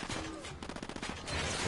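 Rapid bursts of gunfire crackle in a PS4 video game, a quick rattling volley in the middle between quieter stretches.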